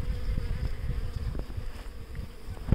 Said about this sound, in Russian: пчелы уже собрались, уже вот даже через литок